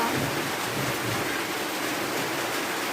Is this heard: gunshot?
no